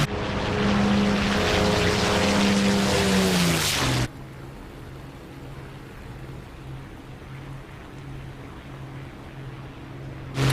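Propeller engines of a warbird aircraft in the DCS World flight game drone steadily and loudly, with a tonal roar that drops away after about four seconds to a quieter, even hum.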